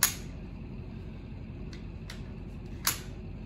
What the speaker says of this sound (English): Then the handlebars have these little latches.